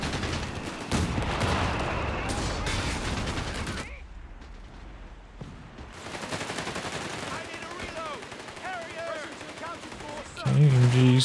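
Machine gun fire in Company of Heroes 3 real-time strategy battle, sustained rattling bursts mixed with other gunfire and battle noise, moderately loud, with a commentator talking over parts of it.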